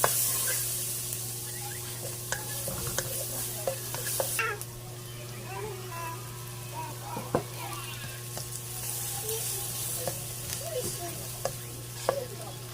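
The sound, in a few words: onion sautéing and sizzling in a pan for seafood paella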